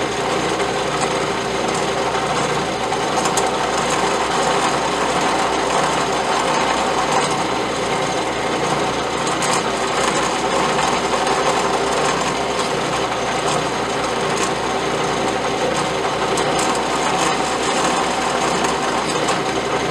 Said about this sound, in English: I'm just easily finding my mark, and barely drilling a hole